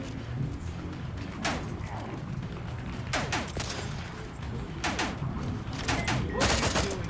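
Gunfire in the video game The Outer Worlds 2, several sharp bursts of rapid shots in quick clusters over a constant background of game ambience and effects.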